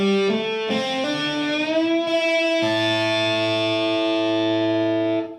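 Distorted electric guitar playing a few notes with a hammer-on, one bent up a full step in pitch, ending on a sustained chord ringing loud and clear with no talking.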